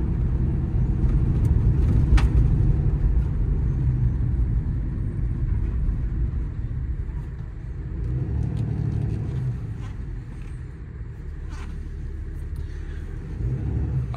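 A 2022 Ram 5500 4x4 crew cab mechanics truck with an 11-foot service body and an IMT 7500-pound crane, driving along: a steady, loud low engine and road rumble that swells and eases slightly, heard from inside the cab.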